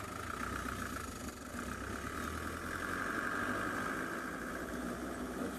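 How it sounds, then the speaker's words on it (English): An old diesel engine idles steadily with a rough, rumbling drone, constant and close, with no voices. "the sound of the roar of this deeply aged diesel engine"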